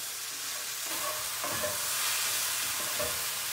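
Basil chicken in coconut cream sauce is stirred around a pan, a continuous soft sizzle broken by a few scraping strokes of the utensil, close and moderately quiet.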